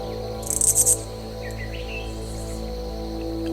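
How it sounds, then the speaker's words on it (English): High, buzzing cicada chirps burst briefly near the start, then faint bird calls drift in over a steady outdoor hum. "the sounds of birds and cicada and leaves rustling"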